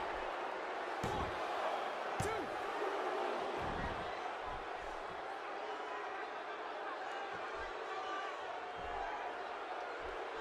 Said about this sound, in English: by the sound of this crowd, I think they're getting what they wanted